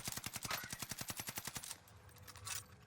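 Rapid automatic gunfire in the shooter game Warzone, a fast burst of evenly spaced shots for about a second and a half, then a quieter pause and one more distant shot.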